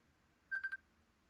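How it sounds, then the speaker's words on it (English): Someone's phone gives a short, faint triple electronic chirp, three quick tones in a row against quiet background hiss. "oh, someone's phone."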